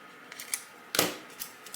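Small pieces of adhesive vinyl are cut with sharp, crisp snips. One louder cut sits in the middle, surrounded by a few lighter clicks and ticks in a quiet room.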